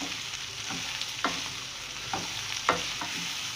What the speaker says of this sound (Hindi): अब मैं ये शिमला मिर्च इसमें डाल दूँगी और इसे भी डालकर मैं इसमें मिक्स कर दूँगी